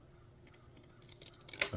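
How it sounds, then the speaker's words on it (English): A few crisp snips of scissors cutting through material, quiet at first and building to a sharp, louder final cut. "cut it off with scissors instead of straight blading it"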